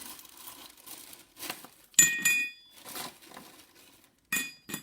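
Several sharp clinks and rattles of ice dropped into a glass while a Negroni cocktail is made, in brief bursts with quiet gaps between them and no talking.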